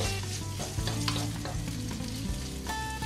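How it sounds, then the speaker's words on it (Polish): Finely chopped smoked bacon fries in olive oil in a saucepan, giving a close, continuous bright sizzle with brief stirring clatters and no talk. "rozgrzewam jedną łyżkę oliwy z oliwek i dodaję bardzo drobno pokrojony boczek wędzony"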